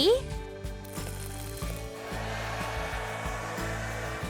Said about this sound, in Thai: ไม่น่าเชื่อเลยว่าไดร์เป่าผมเนี้ยจะมีพลังวิเศษอะ